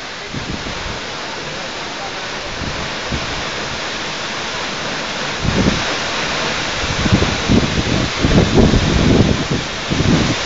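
Broad steady rush of water at Aw-asen Falls, a waterfall feeding a wide river, loud and continuous with heavier surging bursts toward the end and voices faintly underneath.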